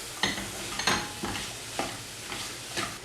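Chopped apple stirred into caramelized sugar in a pan produces soft, close scraping strokes, about six evenly spaced stirs over a low sizzle.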